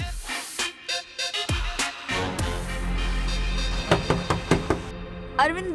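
Knuckles rap on a door in quick bursts of two or three loud knocks, pausing between bursts, with a voice calling out over the later knocks.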